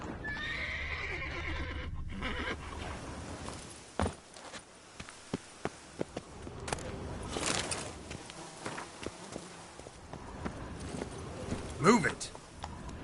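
Roach the horse in Witcher 3: Blood and Wine gives a clear whinny and snorts, then hooves clop in scattered, sharp steps, fairly close, with a few louder knocks and a final neigh near the end.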